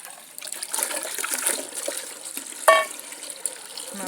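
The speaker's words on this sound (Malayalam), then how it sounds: "ബക്കറ്റിലേക്ക് ഒഴിക്കുക കേട്ടോ" Water is poured into a bucket, a continuous splashing gush with a sharp knock partway through, fairly close and without talk.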